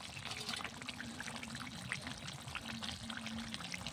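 Cooked goat meat curry with a light, thin gravy is poured out, a soft continuous liquid slosh and trickle, faint and close, with no talking.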